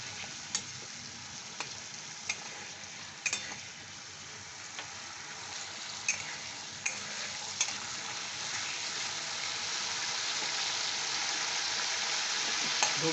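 Masala for Bengali bhoger khichuri sautés in a pan with a steady soft sizzle, punctuated by intermittent spatula taps and scrapes, growing slightly louder over time.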